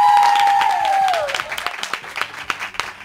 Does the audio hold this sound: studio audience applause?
yes